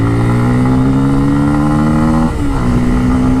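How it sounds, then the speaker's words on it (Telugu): A Bajaj Pulsar F250 motorcycle accelerates hard, its engine note climbing steadily with one brief dip at a gear change before it rises again. Loud and close, with no talk. "ఇప్పుడు యాక్సలరేషన్ చూద్దాం."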